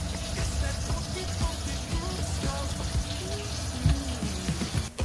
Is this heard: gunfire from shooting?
no